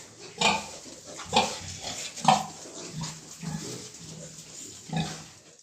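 Piglets grunt and squeal softly over and over in short, irregular bursts, close by, with faint rustling in between.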